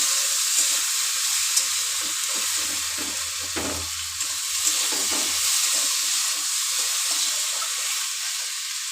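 Tomatoes sauté in a pan for palak sabji while being stirred, a steady close sizzle broken by scraping stirs and a brief low knock.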